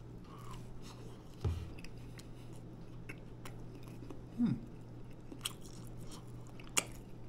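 Someone bites into and chews an egg and sausage link biscuit, giving a soft crunch at the first bite and another chewing burst a few seconds later, close to the mic over a steady low hum, with no talking.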